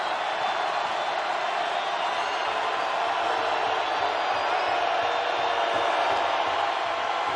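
A football stadium crowd roars steadily throughout an NCAA FCS championship semifinal between North Dakota State and Montana, a dense, continuous wash of cheering with no breaks.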